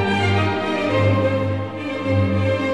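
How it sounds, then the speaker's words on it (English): Many pianos, played by 326 hands at once, perform Mozart in a thick, sustained ensemble of steady chords and a held bass line, full and even throughout. "326 hands playing Mozart."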